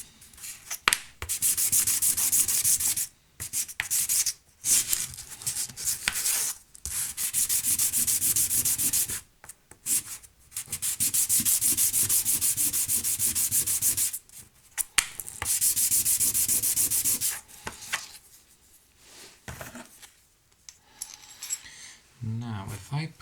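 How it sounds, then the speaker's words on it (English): Hand sanding with 1000-grit sandpaper on a part for an old sewing machine lamp build. Close, rasping strokes come in long continuous stretches separated by brief pauses and small handling clicks. "This is just some 1000 grit sandpaper."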